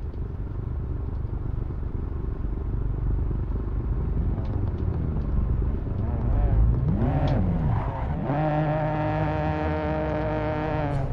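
A Toyota GR86's engine in the video game Assetto Corsa at Monza drones steadily throughout, rising into a revving whine with shifting tones near the end, while voices talk over it.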